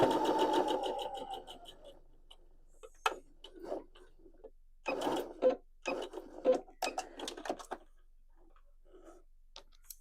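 A sewing machine stitches across the top of a fabric pouch filled with lavender: a steady whirring run at first, then short, intermittent mechanical bursts and clicks after a pause.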